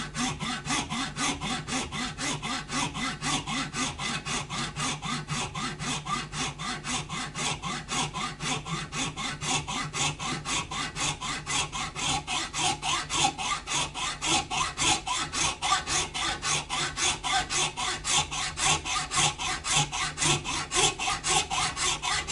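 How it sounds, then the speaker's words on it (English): A hacksaw cuts a slot into the nut of a 1997 Wine Red Gibson Les Paul, a steady rapid back-and-forth rasping that holds close and even throughout with no talking. "I think actually the hacksaw is probably the best device for now"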